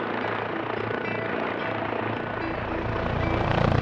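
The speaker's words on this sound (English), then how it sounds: "The XV-15 is an experimental rotorcraft" An XV-15 experimental tilt-rotor aircraft flies close by, its rotors and engines making a loud, continuous thrumming roar that swells slightly toward the end.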